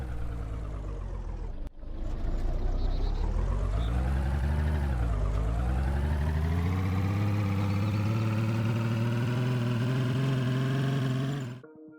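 A vehicle engine runs in DayZ with manual transmission, a loud steady droning hum whose pitch climbs, dips sharply at a gear change, then rises again before cutting off abruptly.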